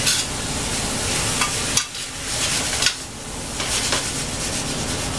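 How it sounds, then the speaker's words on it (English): Shrimp for shrimp scampi with garlic scapes sizzles in a pan as it is tossed and stirred, a dense, bright frying hiss broken by a few scraping strokes. "I'm going to toss my shrimp back in here."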